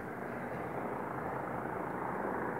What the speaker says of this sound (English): A hovering helicopter.